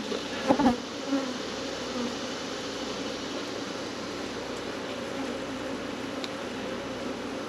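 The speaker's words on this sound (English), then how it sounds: "I got a bee stinging me right in my glove." Honeybees buzz steadily around an open hive during a summer inspection, a continuous droning hum with a few louder close passes near the start.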